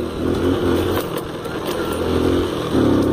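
A motorcycle engine drones loudly and steadily up close, its pitch rising slightly near the end as it revs.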